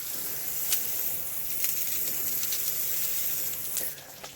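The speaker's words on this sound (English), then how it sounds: "So it's slowing down, still dripping." Water dripping from a roof after a soft wash with a 6% bleach mix, a soft wet trickle with scattered drips spaced irregularly, heard close but at modest level, with no talking.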